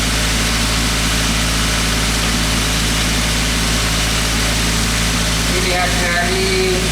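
A Toyota Avanza EFI engine idling too high, near 1000–1200 rpm, giving a loud, steady close-up drone with a constant low hum, while someone talks over it.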